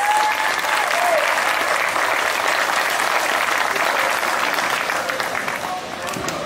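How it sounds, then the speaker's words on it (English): A county fair audience applauds steadily after an evening of contestant performances, a dense, sustained wash of many hands clapping at full volume that eases slightly toward the end, with voices faintly mixed in. "so let's give everybody a round of applause."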